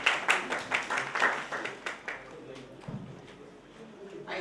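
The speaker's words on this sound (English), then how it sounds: "Please clap for Arvind also" Scattered applause from a small workshop audience on cyber security, a few distinct hand claps at first that thin into quieter, uneven clapping, with voices murmuring underneath.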